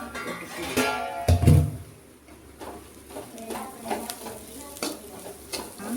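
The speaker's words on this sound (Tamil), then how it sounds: "கொத்தமல்லி கருவேப்பிலையும் போட்டு அப்படியே நல்லா கிளறி விட்டுருவோம்" Coriander and curry leaves stirred in a sizzling pan, a soft frying hiss with scraping stirs and a brief loud clatter near the start, close by.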